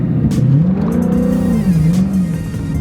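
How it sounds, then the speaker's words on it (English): A Dodge Challenger launches at full throttle, its engine revving up in a loud, rising and wavering roar, with quick pitch swings over a few seconds as the car accelerates hard. "You have to press the brake and quickly apply full throttle."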